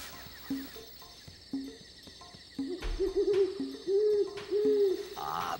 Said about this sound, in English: But I know who made that noise. Duck. The duck. Great horned owl.